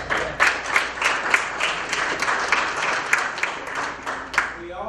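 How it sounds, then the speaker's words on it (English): An audience at a gathering with legislators claps in a broad, moderately loud round, with individual claps popping out rhythmically through the wash. "let's give him a hand of applause"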